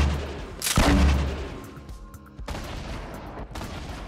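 Rocket launcher fire in a video game hits as a heavy, loud blast with a booming tail, followed by further muffled explosions and impacts a few seconds later, with no voices.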